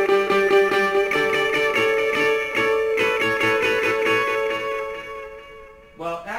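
Electric guitar plays a chiming riff through a quarter-note delay with several repeats set fairly high in the mix, producing steady rhythmic echoes of bright picked notes that ring out and fade before a fresh attack near the end.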